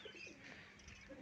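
A pigeon gives a soft, brief coo nearby, faint against quiet background noise.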